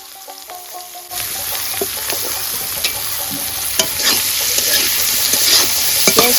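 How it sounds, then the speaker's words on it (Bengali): Chopped onion and garlic frying in oil left over from frying dried fish, a loud close sizzle with stirring clicks and crackles that grows more intense after a quieter opening. "পেঁয়াজ কুচি, রসুন কুচিটাকে একটু লাল করে ভাজিয়ে নেব"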